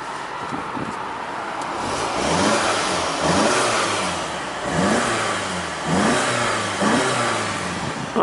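A 2017 VW GTI Autobahn Edition engine, already warmed up, revs repeatedly from idle in steady rising and falling swells. The sound is close and moderately loud, with no talking over it.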